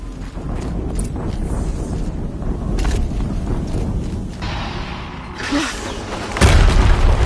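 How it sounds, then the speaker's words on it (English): Booming explosions in Horizon Zero Dawn, a heavy low rumble with a louder blast near the end, amid mechanical clatter and no voices. "Another explosion."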